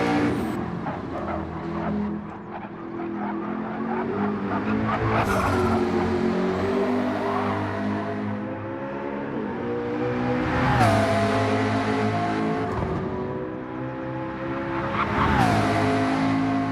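Race car engines in Gran Turismo during a world series qualifying round, loud revving that climbs in pitch, then drops sharply at each gear shift, repeated over and over.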